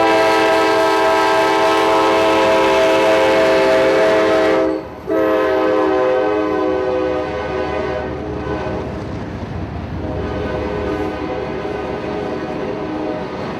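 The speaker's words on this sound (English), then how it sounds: "Following 740, it was a coal train, N152, Lynch, Kentucky to Stanton Power Station" Coal train N152, running empties back toward Kentucky, rolls past close by with a loud, sustained horn blast over the steady rumble and clatter of the cars.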